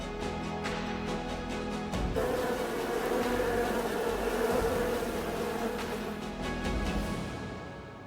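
A huge insect swarm gives off a dense, continuous buzz, loud and close, swelling slightly in the middle with a few sharp clicks near the start and end.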